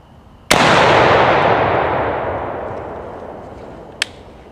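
A single loud blast from a Retay Masai Mara shotgun firing Apex TSS shells at a pattern target outdoors, with a long rolling echo that slowly decays and a sharp distant crack near the end.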